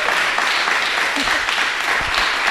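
A live audience at a medical podcast recording breaks into steady, dense applause that fills the whole moment at an even, fairly loud level.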